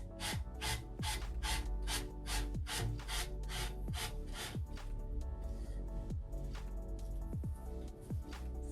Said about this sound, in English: just sand right on the edge of your piece, and you're gonna let that friction kind of help you out